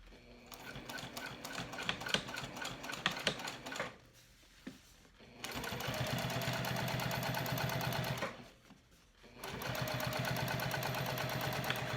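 Sewing machine stitching a crossbody bag, running in long steady rapid bursts with brief pauses between passes, close and loud and heard on its own.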